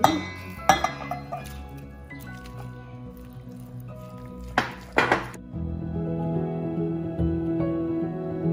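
Raw egg being stirred into a meatloaf mixture in a bowl, giving wet squishing and squelching with a few sharp utensil clinks against the bowl, close and moderately loud.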